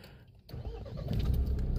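A new car's engine cranks and starts after a short pause, then settles into a low, steady idle that grows slightly louder up close.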